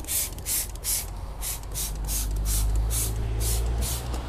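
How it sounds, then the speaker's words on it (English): Repeated short hissing bursts of Mirch Grime Off non-acid wheel cleaner sprayed onto a car tire, about a dozen quick trigger pulls in a steady rhythm, close and fairly loud. "we'll spray it on the tire as well"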